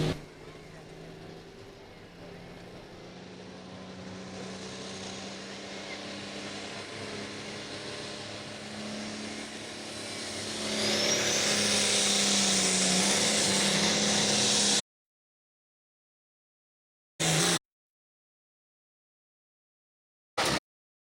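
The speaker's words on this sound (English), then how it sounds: "Here comes your first puller, Gary Lucas." A pulling tractor in the 8,500 lb Limited class roars at a tractor pull in Mendon, Illinois. The loud, steady engine howl builds to a harsher peak, cuts off abruptly, then returns in two short bursts.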